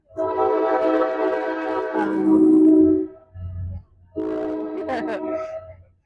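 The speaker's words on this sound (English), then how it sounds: "I don't know if you're gonna hear that train come by." A train rumbles past a train station with a sustained horn blast, loud and close, fading briefly before a second horn sounds.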